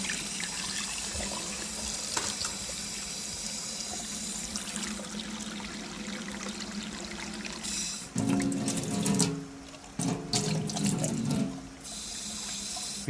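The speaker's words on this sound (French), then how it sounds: "allez vider l'eau de cuisson et rafraîchir l'œuf immédiatement." Tap water runs steadily into a kitchen sink to cool a freshly boiled egg, a continuous close splashing stream that grows louder and more gurgling as the flow shifts, then briefly stops and resumes.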